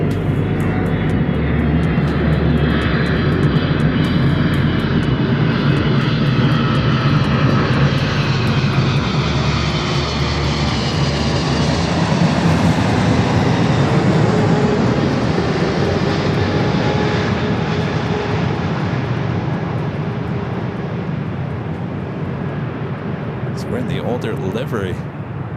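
An EVA Air Boeing 777-300ER roars with loud, sustained jet engine noise at LAX, the rumble swelling and slowly shifting in pitch as it passes, with airport ambience underneath.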